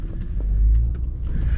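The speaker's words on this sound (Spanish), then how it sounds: "el aceleramiento fue gradual y nada más hasta un punto donde ya no, donde no estuviera escarbando más el carro hacia en la arena" A Honda Ridgeline with VTM-4 lock eases forward in sand, its engine a low rumble that swells gently and then settles, with faint clicks over it.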